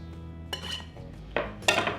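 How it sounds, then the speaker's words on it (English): Butter is cut into a homemade biscuit dough mixture in a bowl, giving a few soft scraping clinks of utensil against the dish, quiet and close with no talk. "I'm cutting in the butter."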